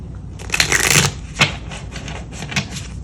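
Crisp riffling and flicking of tarot cards being shuffled, a long burst followed by a few shorter snaps, close and fairly loud.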